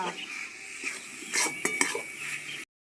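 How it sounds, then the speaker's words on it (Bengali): Coconut filling for kadam pitha being stirred in a pan, with scraping and clinking of a spoon against the pan and a few sharper knocks over a soft sizzle. "নারকেলটা দেখুন পাক দেওয়া হয়ে গেছে এখন আমি নামিয়ে নেব"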